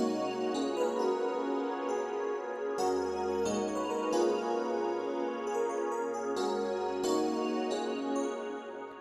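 An ambient synth pad layered with piano plays slow, sustained chords that blend into a lush, continuous wash, with shifting chord changes every couple of seconds and a low bass underneath, fading slightly at the end.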